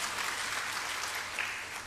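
Audience applause at a Dainik Jagran Samvadi event in Delhi, a steady dense wash of clapping from a crowd, continuous and fairly even for the full stretch with no voices over it.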